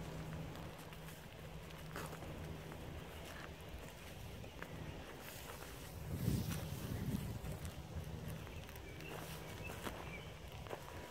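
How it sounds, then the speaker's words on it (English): Soft, continuous rustling of grass in a garden in a steady breeze, with light wind buffeting and a brief fuller gust midway; no voices. "in the breeze today, the grass is really making this beautiful noise"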